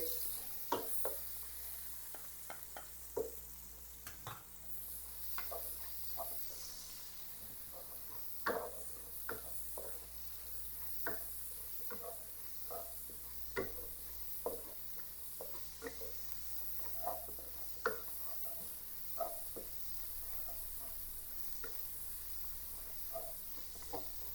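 White onion and garlic sautéing in a pan for baked adobo, a faint steady sizzle under scattered light ticks and scrapes of a utensil, fairly quiet and continuous with a low background hum.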